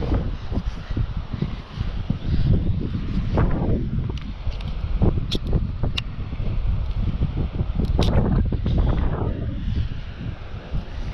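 A heavy conventional ulua fishing pole, 13 feet long and heavy action with a Nitro reel, is cast into the wind on the shore. Steady, loud wind buffeting covers most of the sound, and a few brief ticks and whooshes can be picked out beneath it.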